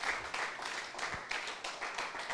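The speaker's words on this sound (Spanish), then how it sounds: "Un aplauso a los alegres al Señor, aleluya." A church congregation applauds together, a steady rhythmic patter of many hands clapping at moderate distance, with a faint murmur of voices beneath.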